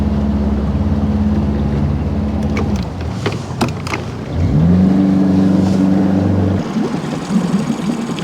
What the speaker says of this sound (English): my motor is in neutral